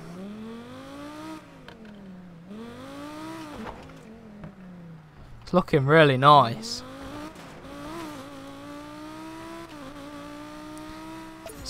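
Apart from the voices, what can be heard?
Audi R8 widebody engine revving, video game Need for Speed Payback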